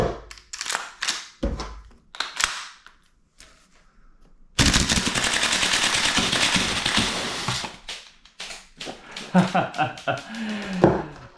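Bursts of fire from an MWS gas blowback airsoft rifle fed by a Tokyo Marui magazine: a few sharp shots early on, then a long, loud, rapid stream of clattering reports, followed by scattered clicks and handling noises.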